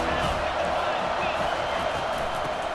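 Steady roar of a stadium crowd in a college football video game, loud and continuous throughout without letting up, with faint talk buried beneath it.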